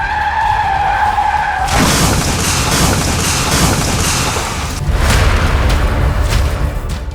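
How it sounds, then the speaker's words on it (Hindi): A cab leaves a mountain road and plunges into a gorge: a loud skidding rush erupts suddenly and roars on, then swells again with another heavy surge of crashing noise. "वीडियो में वो कार पहाड़ की सड़क से सीधे खाई में जाकर गिरती हुई दिखी"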